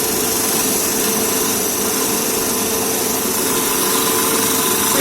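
A DC shunt motor runs steadily under load on a test bench, giving a continuous, loud, even mechanical hum and whir with no pauses or change in pitch.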